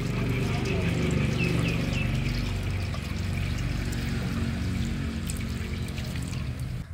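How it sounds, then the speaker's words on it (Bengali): Cold water pouring steadily over boiled noodles for veg chowmein, a continuous close splashing rush with a light trickle on top, lasting the whole stretch without pause. "আর এখন একটু ঠান্ডা জল দিয়ে ধুয়ে নেব।"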